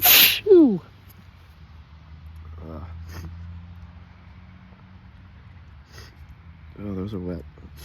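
One sharp, wet sneeze bursts out at the very start, close and loud, then steady rain-like background noise follows with brief voiced breaths and a short vocal sound near the end.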